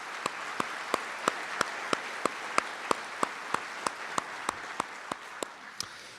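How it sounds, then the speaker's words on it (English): Steady, evenly spaced hand claps ring out for the opening of a winter night shelter for homeless families, sharp individual slaps at a regular slow rhythm, moderately close and without voices. "Let's give them a big round of applause"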